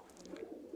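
Pigeons coo softly in a home pigeon loft, several short low murmuring calls in quick succession, faint and fairly close, with no voices.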